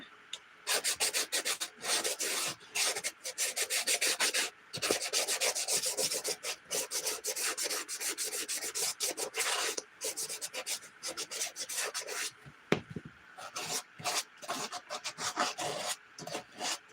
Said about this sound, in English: Just really sandpaper, just really to scratch up the shoes so it help the paint stick to the shoes